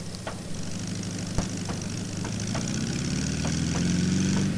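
A Brill railbus engine in Trainz 2019 revs steadily under a constant idle-like drone, its pitch climbing gradually toward the end, with a few faint clicks scattered over the running engine.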